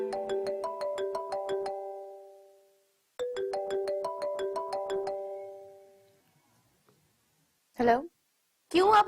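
A phone ringtone plays a bright repeating melodic pattern twice, each burst fading out, followed by brief speech.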